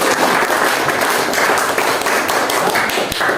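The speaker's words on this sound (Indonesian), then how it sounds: "Oke, berikan tepuk tangan." An audience at a school teacher-training event breaks into dense, continuous clapping that fills the room from start to finish, loud and close, with no talking over it.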